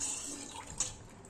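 Water is poured out outdoors onto open ground, a soft, faint splashing trickle with a brief louder splash partway through and no talk.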